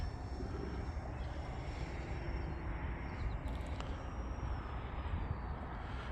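E-flite Beechcraft D18 RC model plane with a 1.5 m wing flying at half to three-quarter throttle, a steady, continuous engine drone at moderate distance under broad outdoor noise, with a faint whine holding throughout.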